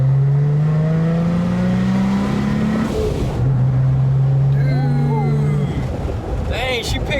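A 2020 Jeep Gladiator Rubicon on big wheels pulls hard in second gear, its engine note climbing steadily, then dipping and climbing again as it keeps accelerating up close, with voices talking over the drone.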